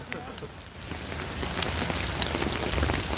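Rain falling steadily on hard surfaces outdoors at a rally outside a church in Virginia Beach, a dense, even patter close to the microphone that builds slightly and carries on without a break.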